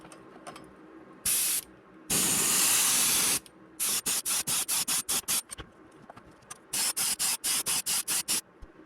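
An airbrush sprays Wicked silver paint onto a fishing lure in close hissing bursts: one long steady spray, then a quick run of short, evenly spaced puffs, with brief silences between.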